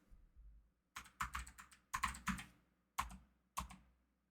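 Soft, close clicks of typing on a computer keyboard arrive in short clusters of a few keystrokes separated by brief pauses, quiet and alone with no talk.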